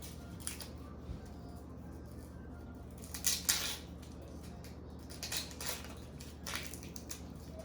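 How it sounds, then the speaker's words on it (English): Knife cutting through an onion on a board, with several crisp crunching chops and slices spread unevenly, moderately close, no talk. "Now we're going to go ahead and cut our onion"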